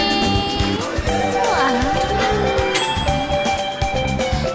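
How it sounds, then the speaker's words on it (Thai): A microwave oven's bright electronic chime rings with sustained tones over faint background clatter, clear and close. "เสียงกริ่งไมโครเวฟก็บอกว่าข้าวเราอุ่นพร้อมแล้วค่ะ"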